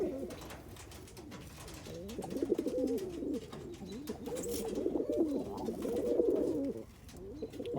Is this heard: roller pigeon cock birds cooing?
yes